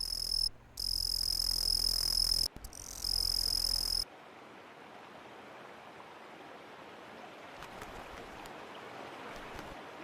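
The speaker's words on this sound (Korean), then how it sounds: "청솔 귀뚜라미가 우렁찬 울음으로 가을을 알립니다." Crickets chirp steadily at an autumn riverside. The first four seconds carry a loud high-pitched insect drone, then a fainter, dense chorus of chirps continues over soft water-like ambience.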